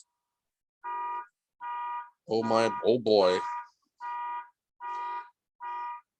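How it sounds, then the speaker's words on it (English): A car alarm sounds outside an apartment, sending out evenly spaced electronic tone bursts about every three quarters of a second, muffled and moderately loud, with a brief stretch of indoor talking breaking in partway through. "Somebody's car alarm is going off right next to my apartment."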